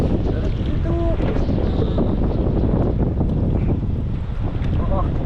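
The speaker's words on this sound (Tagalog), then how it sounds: "Grabe ang hangin." Strong wind on a boat during night net fishing buffets the microphone in a constant loud roar, with faint splashing water and a brief murmur of voices underneath.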